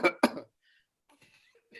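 A doctor gives a demonstration of a normal upper-airway cough: two quick, close coughs, followed by a few faint breathy noises in an otherwise quiet room.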